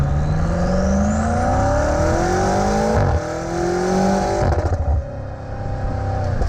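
A 2018 BMW M5 engine revs hard through several gear changes, pitch climbing then dropping at each shift, loud and close.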